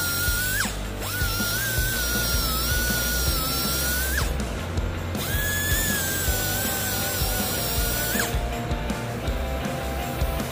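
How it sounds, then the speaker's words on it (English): A power grinder removes corrosion from an aircraft surface with a steady, loud whine whose pitch shifts as it bears into the metal, running continuously with brief changes in load. "You want to go ahead and grind off the area where there is corrosion"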